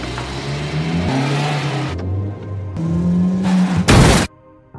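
A car revs and accelerates hard in uneven surges, its engine note climbing and dropping, before a sudden loud burst of impact noise against a wall, followed by near quiet.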